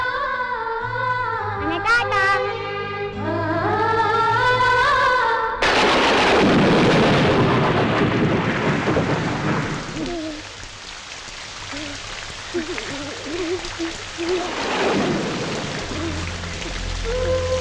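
In a film scene, music gives way to a loud burst of thunder and a rush of heavy rain. The downpour keeps hissing more quietly underneath, with later rumbles and people talking.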